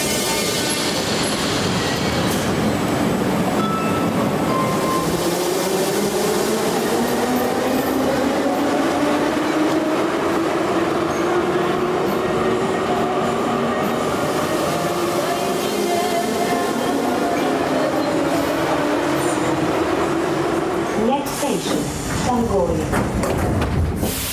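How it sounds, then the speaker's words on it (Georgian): A metro train roars loudly and continuously from inside the carriage, with a rising and falling wheel whine and squeals near the end. "ხმაურის კიდევ უფრო მაღალი მაჩვენებელი მეტროთი მგზავრობის დროს ფიქსირდება"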